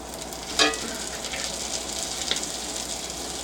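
Vegetables fry in olive oil in a pan with a steady, close hiss. A single clack and a light stir sound briefly above the sizzle, and no one speaks.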